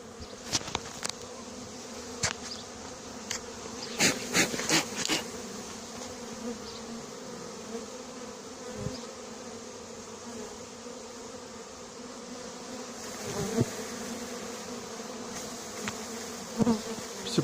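A swarm of honeybees buzzes in a steady dense drone around shaken branches outdoors, with scattered rustling and knocks over the continuous hum.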